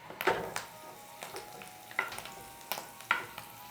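Prawns frying in ghee with masala, garlic and curry leaves for a Mangalore-style ghee roast, a soft steady sizzle broken by several sharp stirring scrapes and clinks of a spoon against the pan, close and fairly quiet.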